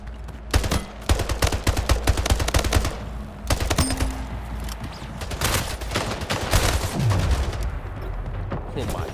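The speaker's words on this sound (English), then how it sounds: "Dang, the assault rifle sucks" Assault rifle fire in the online shooter Splitgate: rapid, loud bursts of automatic gunshots in quick rhythmic strings, nearly continuous with brief pauses, with game effects and a voice mixed underneath.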